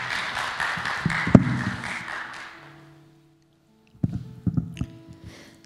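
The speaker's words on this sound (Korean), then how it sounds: "우리 백선희 집사님 나오실 때 박수로 환영하실까요?" Church congregation at a Sunday worship service applauds to welcome a deacon; a few seconds of rapid, moderate clapping fade to silence, followed by scattered taps and shuffling.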